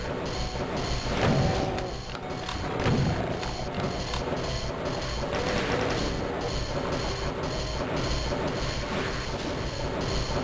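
Chaingunner in Doom, played through Crispy Doom, fires its chaingun in a sustained, noisy stream of rapid shots, with dense crashing impacts and gunfire layered continuously over about ten seconds.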